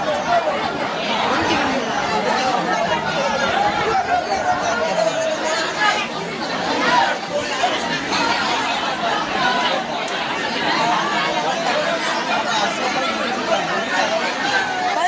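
Dense chatter of a large crowd packed into a busy general-class ticket queue, a continuous loud babble of many overlapping voices with no single speaker standing out throughout.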